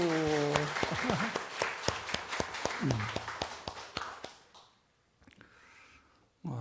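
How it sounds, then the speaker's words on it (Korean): A church congregation applauds the worship team at a Sunday service: dense, loud clapping with sharp individual claps that thins out and fades to near silence, with a voice and sustained tones underneath at the start. "우리 박수"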